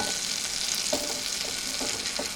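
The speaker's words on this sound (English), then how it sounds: "Okay, in goes the butter. Next thing in goes, like I said in my last video, that I don't measure anything. In goes the cumin seeds. And So in goes the onions." Onions frying in butter with cumin seeds on a narrowboat stove, a loud, dense, continuous sizzle with faint stirring taps underneath.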